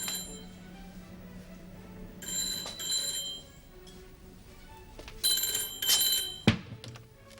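An old telephone bell rings indoors in short bursts, several separate rings spread across the moment with quiet gaps between, fairly clear and close, with a sharp clatter near the end as the receiver is picked up.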